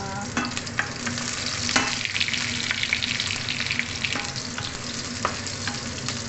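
Onion and ginger sizzle and fry in a hot pan while being stirred, a steady close crackle with occasional scraping spatula strokes, no voices.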